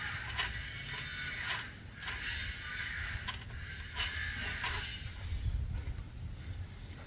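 A ratcheting tool clicks as the rear wheel axle nut of a Lectric XP e-bike is loosened. Repeated mechanical clicks and creaks come in short bursts at close range, with no talk.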